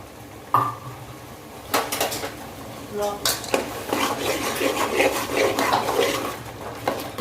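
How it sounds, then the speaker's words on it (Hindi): Ground coconut roasts in a pan, with loud metallic clanks of a spoon against the pan, then continuous scraping and stirring noise, close up. "अब इससे हम पिसा हुआ कोकोनट डाल देंगे और इसको भी पीसेंगे, उसका भूनेंगे बराबर से"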